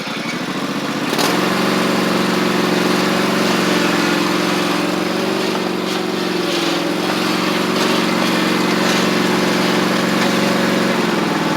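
A Toro Timecutter MX5000 zero-turn mower, freshly fitted with a new transmission drive belt, runs loud and close as it drives, its engine holding a steady droning hum with a slight rise in pitch after a second.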